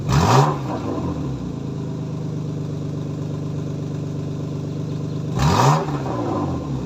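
A BMW 328i with a custom exhaust line and a leaking manifold, the exhaust valve opened and closed between runs: the engine idles with a steady low drone, and a short throttle blip rises at the start and again near the end.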